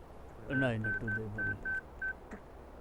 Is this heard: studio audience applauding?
no